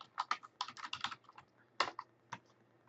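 Fingers tap out an email address and password on a computer keyboard in quick irregular bursts of close, crisp keystrokes, with a short pause before a few final clicks.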